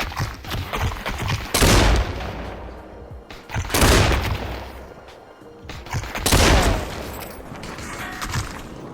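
Bursts of automatic gunfire in a first-person shooter video game, three loud volleys a couple of seconds apart, with quieter rumbling between them.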